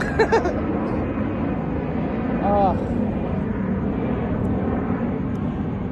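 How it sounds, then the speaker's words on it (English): A propeller plane drones loudly and steadily overhead, heard from a car, its engine roar filling the whole stretch beneath a brief voice near the start. "As I let this plane pass, I know it's loud."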